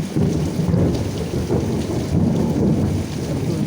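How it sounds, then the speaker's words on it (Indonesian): Deep rolling thunder rumbles continuously over steady heavy rain, loud and close, heard from a village house window. "suaranya guntur sungguh luar biasa lur"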